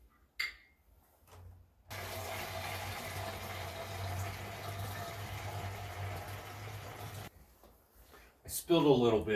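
A hand pump sprayer spits salt brine mixed with molasses onto a driveway as an ice treatment, a steady hissing spray lasting several seconds between short bursts of handling noise.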